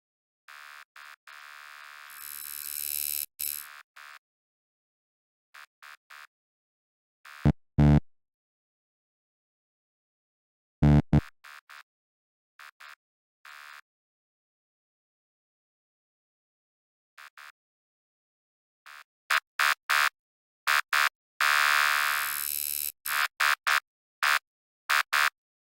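Wavetable synth tones from the Sonic Academy Node plugin, scanning angular wavetables, play as scattered bright electronic bursts and short stabs separated by silences, with two dense, buzzy flurries at the start and end.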